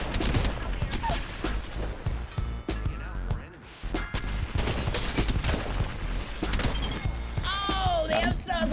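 L-STAR energy weapon fire in the Apex Legends arena mode, heard as dense, loud bursts of rapid shots mixed with other combat noise and a few electronic whines, under brief talk.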